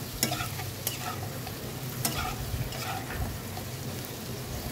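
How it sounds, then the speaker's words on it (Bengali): Sliced potatoes with chili powder stirred and flipped in a pan, a soft steady sizzle with a few sharp spatula clicks and scrapes against the metal, no talking. "দিয়ে আবারও আলুটাকে ভালো করে এরকম এপিট ওপিট করে আমি নেড়ে নেব"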